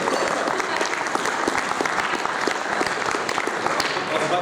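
An audience at a debate on internet regulation breaks into steady, dense applause, many hands clapping together at an even level throughout, with faint murmuring beneath.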